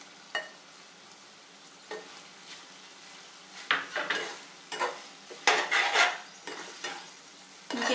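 Green chillies and onions sizzle softly in a pan for chicken liver fry while a spoon stirs and scrapes, giving several sharp metallic clinks and bursts of louder frying as garam masala goes in.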